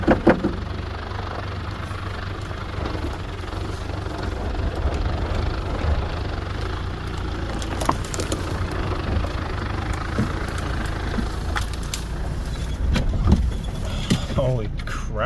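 A TDI four-wheel drive's engine drones steadily as it crawls through a rut at night, a low continuous rumble with brief knocks and rattles near the end, close and fairly loud.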